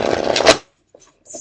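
A brief riffle of an Edmund de Luck tarot deck being shuffled, a close, crisp burst of cards lasting about half a second, followed by a couple of faint taps.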